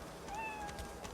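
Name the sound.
cat meowing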